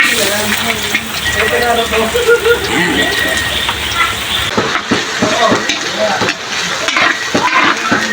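Ginger sizzles loudly in hot cooking oil, a hissing fry with clicks and scrapes of stirring, while a person talks throughout.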